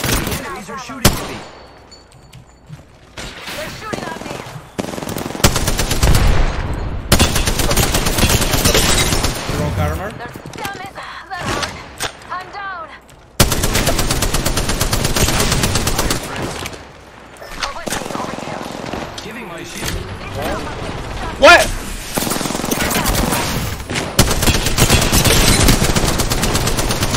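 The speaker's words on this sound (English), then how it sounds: "The enemies are shooting at me." Enemy gunfire in Apex Legends, dense bursts of automatic shots and rapid volleys at close range, loud and sustained with brief pauses, overlapped by talking players.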